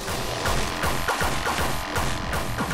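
A chaotic, crashing explosion in the first-person game Anger Foot, a loud sustained din of repeated thuds and smashes over driving game music.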